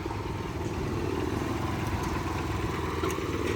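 Old Japanese walk-behind tiller engine chugging steadily in third forward gear without being revved, a close, even mechanical rumble with light clatter that runs throughout with no talking.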